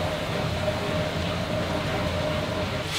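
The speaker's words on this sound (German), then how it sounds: "Ich pumpe nochmal." Well-water pump running steadily at a forest house during renovation, filling storage tanks; a continuous, fairly loud mechanical drone with a steady tonal hum, unchanging throughout and alone without speech.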